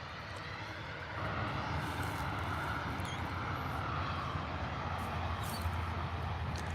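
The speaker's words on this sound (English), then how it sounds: "Singapore finally on his way, lining up for runway 23 at Adelaide Airport" A Singapore Airlines airliner lines up on runway 23 at Adelaide Airport. Its distant jet engine hiss and rumble rise a little after the first second and then hold steady and faint over the whole stretch.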